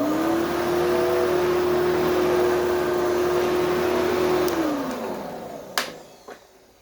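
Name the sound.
2003 Sanitaire SC4570B-1 vacuum cleaner running with slight whine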